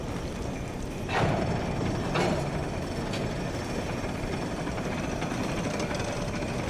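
Steam train in the game Red Dead Redemption 2, being filled up with coal: a steady low rumbling hum with two heavy clanks and a faint later knock, no talk.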